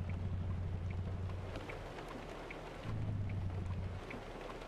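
Rain patters steadily in American Truck Simulator while driving a truck, a soft continuous hiss with a low rumbling drone underneath and no speech.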